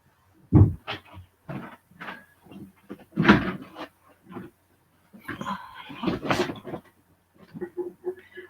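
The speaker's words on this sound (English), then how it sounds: "Can you give me 1 second just to close the door" A door is closed in a house with several thuds and clunks, mixed with handling knocks and a scraping slide, close and irregular over a quiet room.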